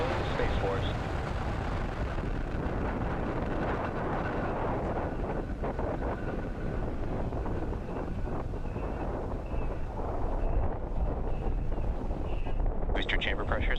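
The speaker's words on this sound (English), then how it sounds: "Engine full power. And liftoff of USSF 67. Go Falcon Heavy." Falcon Heavy rocket liftoff for the USSF 67 mission, a steady, loud, broadband roar with wind-buffeted rumble sustained throughout, with a launch commentator's voice faintly under it.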